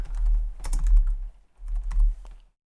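Computer keyboard keys tapped in two quick bursts while typing a track name in DaVinci Resolve 17, crisp close clicks with a short pause between, then silence.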